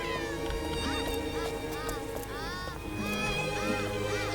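Several cats meow in turn in the video game Bioshock Infinite: Burial at Sea Episode 2, rising and falling cries over steady background music, with a few overlapping calls.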